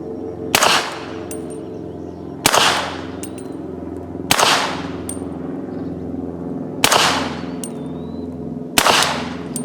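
Five loud gunshots ring out at roughly two-second intervals, each a sharp crack with a ringing tail, fired from powder-coated subsonic cast bullet cartridges soaked underwater for three days; no talking.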